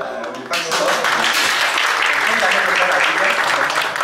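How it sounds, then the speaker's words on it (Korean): The congregation at an opening church service breaks into loud applause after a brief quiet moment, clapping densely and steadily until the end. "박수"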